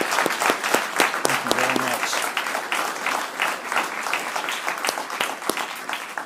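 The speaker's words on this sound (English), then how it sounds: "Can we give another round of applause to our 5 winners?" Library audience at a Banned Books Week celebration applauds art contest winners with brisk, close clapping, several sharp individual claps standing out over the steady crowd patter.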